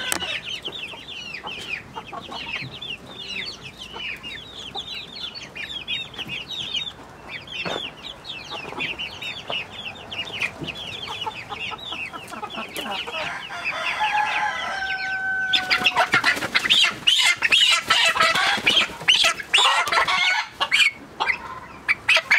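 A colorful farm flock of chickens clucking and chattering in a busy overlapping chorus, with a rooster's crow-like calls, growing louder and denser near the end with handling noises.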